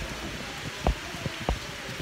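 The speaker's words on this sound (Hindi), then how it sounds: "बारिश सुबह से कंटिन्यू है" Steady rain falls outdoors on a misty day in Himachal Pradesh, a soft continuous patter with a few louder drops landing close by, no voices.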